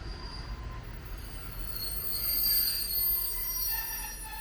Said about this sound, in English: the train that's just pulled in